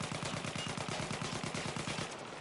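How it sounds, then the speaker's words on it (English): Rapid automatic rifle hip fire in the video game Battlefield 1, a steady burst of evenly spaced loud shots running nearly the whole time, then tailing off at the end. "Now watch. Hip fire."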